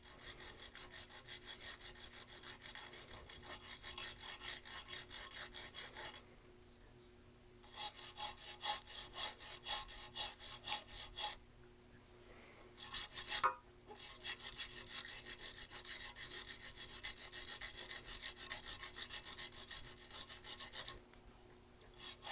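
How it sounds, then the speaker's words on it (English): A small brush scrubs rust off a nickel-plated 1980s Mongoose BMX frame in close, quiet, rapid back-and-forth strokes. The bursts are separated by brief pauses, and one sharp knock comes midway. "So I'm going to get this smaller brush here. Look at all that rust popping up."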